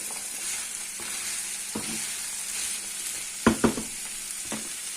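Carrot and minced meat sauté in a pan for a minced-meat zucchini dish, a steady close sizzle with a few sharp scraping stirs of a utensil near the end, no talking.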